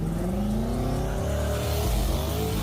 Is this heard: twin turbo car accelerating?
yes